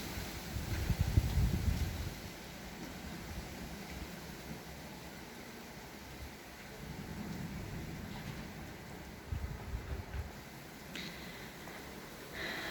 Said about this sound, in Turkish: Evet rüzgar esiyor.